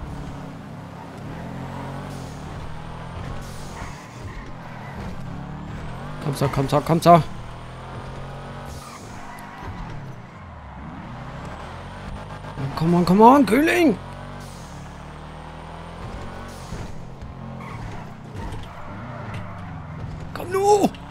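Cars race in GTA 5 roleplay, engines droning steadily with two louder bursts of revving or skidding, while players talk and shout excitedly over the action throughout.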